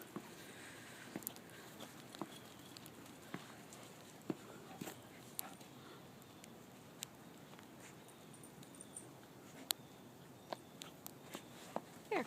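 Several dogs romp through snow outdoors behind a big fence, with soft scattered footfalls and crunching patter, faint sniffs and occasional small clicks, all fairly quiet and steady with no talking.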